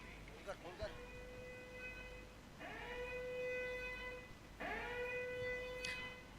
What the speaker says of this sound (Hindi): और ये सायरन बजा है खतरे की घंटी, फ्री हिट।